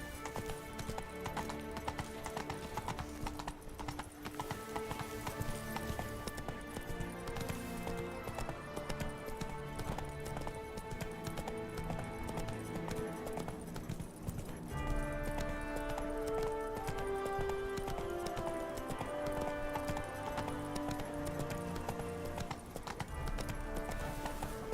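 Roach, Geralt's horse in The Witcher 3: Blood and Wine, gallops in a steady clip-clop rhythm of hooves under a bed of orchestral game music, with a brief whinny and no speech.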